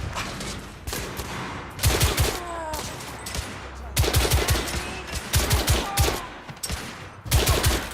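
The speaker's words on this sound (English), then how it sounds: "Gunfire was coming from that tunnel." Rapid gunfire from The Order 1886 video game crackles in repeated bursts of sharp shots, loud and close, with echoing reports between volleys.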